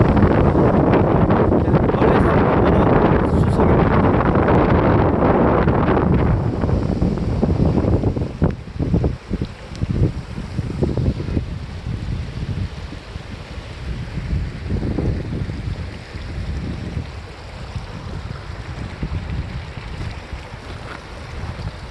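Strong wind at a reservoir roars and buffets the microphone, loud and gusty at first and then easing into a lower, uneven rush.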